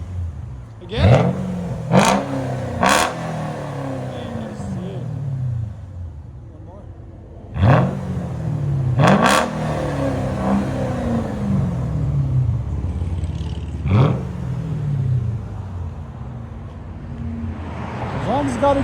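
Loud, close revving from a 2007 Mercedes S550 5.5L V8 running straight pipes and an X-pipe, with repeated quick throttle blips in clusters, each falling back to a deep rumbling idle, with voices heard faintly between revs.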